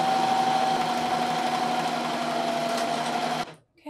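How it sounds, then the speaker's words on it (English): A serger with its knife turned off runs steadily along the bottom edge of a knit cardigan, a close, even hum that stops abruptly near the end. "I'm going to turn off the knife and just serge along that edge."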